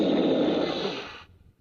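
Mewtwo's sleeping voice clip from Super Smash Bros. Ultimate: one filtered, breathy, snore-like exhale lasting about a second, then cutting off into quiet.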